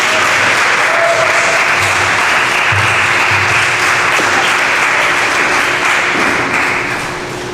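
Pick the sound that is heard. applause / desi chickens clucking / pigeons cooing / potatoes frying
applause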